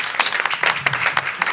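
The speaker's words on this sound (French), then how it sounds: "On peut l'applaudir aussi si vous voulez, bien entendu." Brief burst of audience applause at a skatepark-themed cultural quiz event, loud and dense clapping with a few sharper claps standing out, no talking over it.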